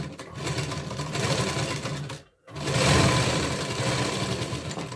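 A sewing machine runs double stitching along the joined seams of a katori blouse, a steady close whirring hum that pauses for a moment and then starts again.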